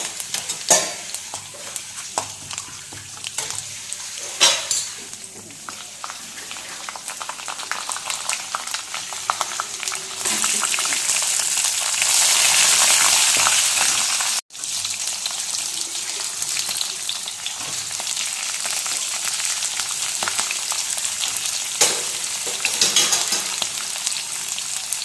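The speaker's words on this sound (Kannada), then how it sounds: "ಈರುಳ್ಳಿ ಹಾಕ್ಕೊಂಡು ಫ್ರೈ ಮಾಡ್ಕೊಂಡಿದ್ದೀನಿ" Onion frying in a pan with mustard seeds, chana dal and cumin for a potato palya, a long steady sizzle with intermittent stirring scrapes and clinks, swelling louder midway before a sudden brief cut, no speech.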